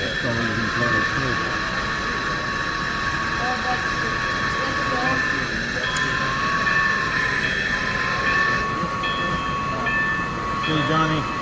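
Model train running on a club layout where the Bar Mills kits are shown, a steady rolling rumble with a whistle-like tone throughout, heard under children's and adults' chatter.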